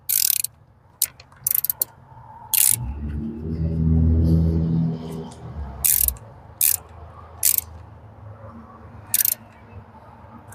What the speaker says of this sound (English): you can tighten this in by hand first, and then take your 10mm socket